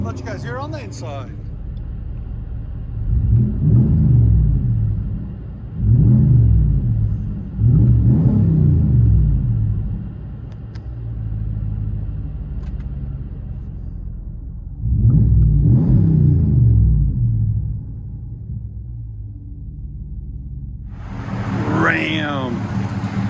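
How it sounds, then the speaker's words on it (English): A 2020 Ram 1500 Big Horn's 5.7L Hemi V8 with Flowmaster Super 44 exhaust, resonator delete and 5-inch tips rumbles steadily, heard inside the cab, with several loud revving surges and a sharp final rev; a voice speaks briefly at times. "Let you guys hear on the inside."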